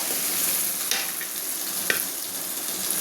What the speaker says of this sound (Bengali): এবারে দিয়ে দিচ্ছি ভেজে রাখা আতপ চালটা